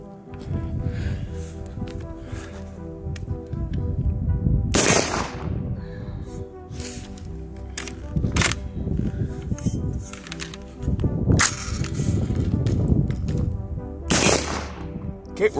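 An AR-15 rifle with a dry bolt and feeding failures fires single shots outdoors, several loud sharp reports standing out over a busy, noisy background.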